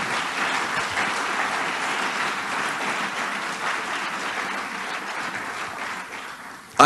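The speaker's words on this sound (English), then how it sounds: "Let's give them all a round of applause, please." Sustained applause from delegates at a political party conference in Bermuda, a dense, even roar of clapping that holds steady throughout, with a sharp louder burst at the very end.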